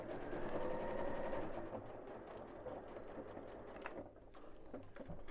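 Sewing machine stitching fabric up to a corner, a steady close mechanical whirring hum for about a second and a half that slows and stops, then quiet clicks and handling of the machine.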